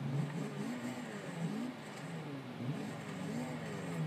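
Engine of a 2014 Nissan Juke Nismo RS in the racing game Forza Horizon 2, a steady mid-pitched drone that rises and falls a little as it revs, heard alone with no talk.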